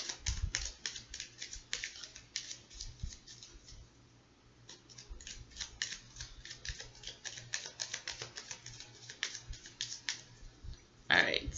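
Rapid papery riffling and tapping of tarot cards being shuffled in repeated bursts, close and quiet, with a brief pause midway and a louder rustle at the end.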